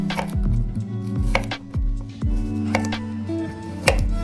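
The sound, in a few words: knife cutting carrot into oblique pieces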